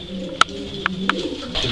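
A three-year-old Janssen racing pigeon in good condition gives a few soft, short coos spaced across a brief moment, close by with a low background hum and no talking.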